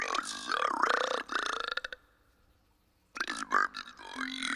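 A cartoon character's long, voiced burp, loud and close, rumbling for about two seconds before a pause and then a second gurgling burp.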